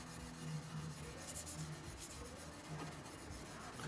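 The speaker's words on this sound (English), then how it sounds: "This is 320 wet sandpaper." 320-grit wet sandpaper rubbed over a Spyderco Manix 2 XL knife blade of Cruwear steel, a steady, soft, continuous rasping scrape with no pauses, fairly quiet and close.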